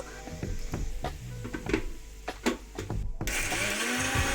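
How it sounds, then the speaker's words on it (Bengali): A kitchen blender grinds a spice paste with a little water, starting with choppy pulses and clatter and then settling into a loud continuous whir near the end. "অল্প জল দিয়ে এটাকে বেটে নেব"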